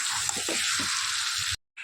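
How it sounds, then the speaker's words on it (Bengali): Meat being sautéed (kosha) in a pan gives off a loud, steady sizzle with soft stirring bumps beneath it, then cuts to silence briefly before the sizzle returns. "আর এখানে আমি এখন মাংসটাকে কষাচ্ছি।"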